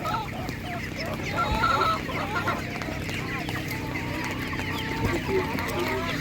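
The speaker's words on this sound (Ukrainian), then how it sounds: "є ще такі несучки в людей" Laying hens cluck in a busy chorus at an animal market, several birds overlapping at close range with steady background bustle and faint distant voices.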